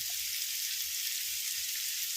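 Nethal fish, small anchovies, frying in a pan of oil give a continuous, close hiss and crackle with no voices.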